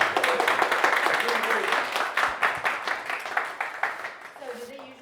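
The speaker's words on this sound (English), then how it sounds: "round of applause." Audience applause at a startup fundraising event in Belgrade: a fairly close crowd clapping in a dense, continuous burst that gradually thins out, with voices speaking over it near the end.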